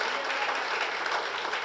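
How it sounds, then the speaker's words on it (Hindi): Steady, dense applause from a packed hall audience at a business presentation, loud and continuous throughout with no gaps. "जोरदार तालियां लोगों के लिए"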